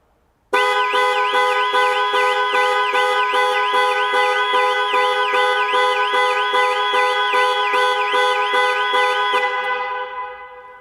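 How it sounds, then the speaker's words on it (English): Jaguar I-PACE panic alarm sounding its car horn: a loud, continuous warbling two-tone blare with rapid regular pulsing, close by, lasting about nine seconds before fading and cutting off, with no talking. "The final button is a panic alarm."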